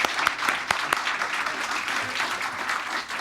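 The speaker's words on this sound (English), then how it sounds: "Please join me in giving a big round of applause for our panelists" An audience claps for panelists after a panel discussion, a dense steady round of applause with a few sharper claps standing out, continuing for the whole stretch.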